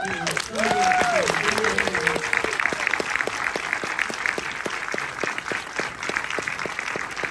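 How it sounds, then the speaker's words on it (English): An audience at a film Q&A for Perfect Days bursts into sustained applause, a dense, steady clatter of many hands lasting several seconds, with a brief voice and tonal sound at the start. "can I get another round of applause?"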